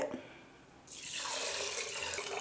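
Water pours from a cup into a pressure cooker holding rice and toor dal, a steady splashing stream that starts partway through and runs on loudly to the end.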